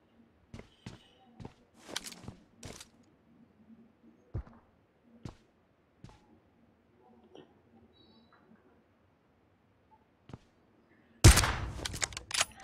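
Gunfire in PUBG, heard as sparse, sharp single shots spaced through the game's quiet ambience, ending with a loud, dense burst of noise.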